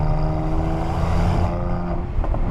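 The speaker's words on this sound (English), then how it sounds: "That is how good this performance exhaust is. It sounds almost like a, I don't know, like a mini V12." Mercedes-AMG C43 4Matic Coupé with a performance exhaust gives a loud, steady, deep engine drone that fills the whole stretch, with no talking over it.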